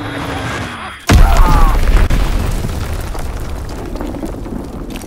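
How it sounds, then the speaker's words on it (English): An enemy bomb blasts in Call of Duty WW2, a sudden loud boom after a second of quieter battle noise, followed by a long rumbling roar that slowly fades. "Enemy bomb incoming!"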